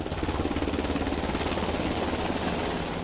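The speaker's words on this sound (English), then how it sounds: "A Seahawk helicopter paraded the Australian flag across the sky" A Seahawk helicopter flies over the harbour during a public celebration, its steady rotor thump and engine roar filling the air continuously with no talk.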